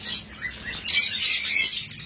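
Caged lovebirds in a bird shop chirp and tweet in quick, overlapping bursts, a busy high twittering with no voices over it.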